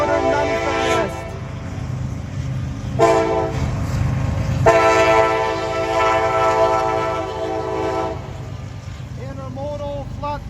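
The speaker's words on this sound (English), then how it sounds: "Yeah, the train is coming. Norfolk Southern Manifest." A Norfolk Southern manifest freight train passes a railroad crossing in Duluth, Georgia, sounding loud sustained horn blasts over the rumble of rolling cars. Brief voices are heard at the start and end.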